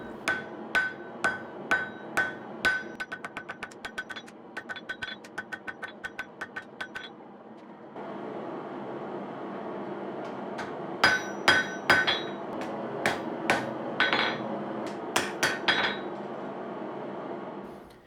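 A hammer strikes hot steel, forging the tang of a Japanese kitchen knife into a thin taper. Sharp ringing blows land in a steady rhythm, first spaced, then in quick bursts, with a lower rumble of the forge beneath the later strikes.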